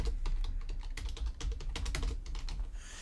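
Steady, rapid keystrokes on a computer keyboard, clicking close and fairly loud with an even rhythm and no one talking.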